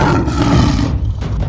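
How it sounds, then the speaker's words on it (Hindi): A cartoon tiger gives a loud, close, sustained roar that fades after about a second, heard alone with no talking. "तभी वहाँ शेरा का दहाड़ने की आवाज आती है"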